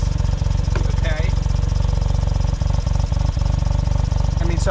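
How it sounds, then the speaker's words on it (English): A Suzuki Cara car engine idles with a steady low throbbing pulse, close and continuous, with faint clicks and talk in the background. "Leave the engine idling during the test."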